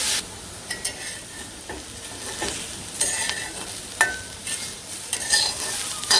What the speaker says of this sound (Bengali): তো এই যে আলুটা কিছু সময় আর কি ভেজে নিলাম